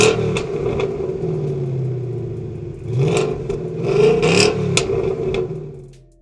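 Car with a Roush X-pipe and deleted resonator, idling then blipped in several sharp revs that climb into a raspier, raceier wail, close and loud before cutting back to idle.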